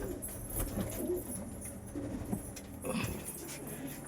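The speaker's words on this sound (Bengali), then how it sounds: "এই যে আমার সব পায়রা, সব জোড়াধারী পায়রা এগুলো আমার।" Pigeons in a home loft coo softly and repeatedly, low throaty calls overlapping at close range amid faint rustling, with no talking.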